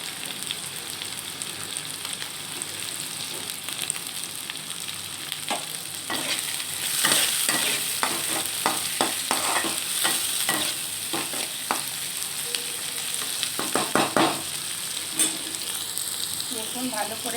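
Tomato and frozen morola fish frying and being stirred in a pan, a steady close sizzle broken by repeated scraping clicks of the spatula, louder in the middle stretch.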